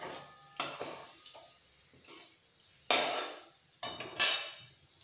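Fried carrots and beans are lifted from a pan for vegetable fried rice, heard as several distinct spatula scrapes and metallic clinks against the pan over a faint background sizzle, close and intermittent.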